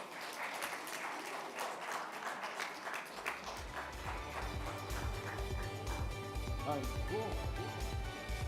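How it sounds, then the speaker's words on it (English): An audience at a hepatitis summit in Chennai claps steadily for a prize winner, a sustained wash of applause with background music and some talking underneath. "A big round of applause, please."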